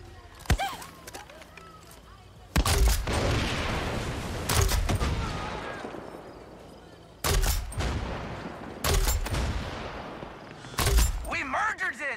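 Gunfire in the video game Far Cry 6: loud bursts of rapid shots break out repeatedly, separated by quieter stretches with sharp isolated cracks.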